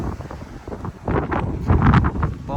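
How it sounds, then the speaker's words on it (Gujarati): Strong wind buffets the microphone on a clear, cold day beside a snow-lined road in the United States, rumbling and gusting louder toward the end with no talk. "પવન સારો એવો છે."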